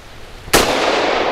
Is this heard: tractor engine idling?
no